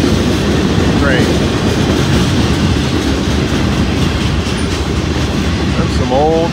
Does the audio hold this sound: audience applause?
no